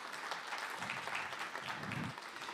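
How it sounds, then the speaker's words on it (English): A church congregation claps during a sermon, a quiet, steady spatter of applause with no voices over it. "you can clap for that"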